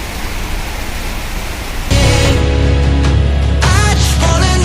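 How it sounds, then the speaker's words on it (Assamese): Heavy rain pours down at a fuel depot, a dense steady hiss that swells abruptly louder partway through, with faint tonal sounds over it. "পূৰা বৰষুণ আহি গ'ল।"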